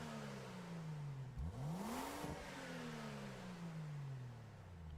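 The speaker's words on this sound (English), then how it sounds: "What's great about Gran Turismo, every and each car sound, it's accurately recorded." A Ford Bronco engine in Gran Turismo 7 revs steadily, its pitch sweeping up sharply around the middle before settling back into a sustained drone, loud and close with no talking.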